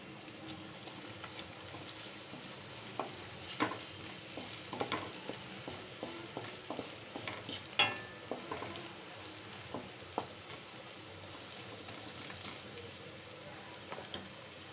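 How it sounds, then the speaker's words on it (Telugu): Onions and green chillies with turmeric fry in a pan for a simple chicken fry, giving a steady low sizzle broken by scattered spatula scrapes and taps, close and moderately quiet, with no talking. "ఆనియన్స్ వేపుతూ ఉన్నాయండి ఆనియన్స్ పచ్చిమిర్చి తగినంత పసుపు"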